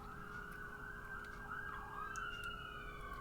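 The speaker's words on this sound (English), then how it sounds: "Just let the ambulance pass." An ambulance siren wails as it passes at a distance, its rising and falling tone steady over a low traffic rumble, faint and with no one speaking.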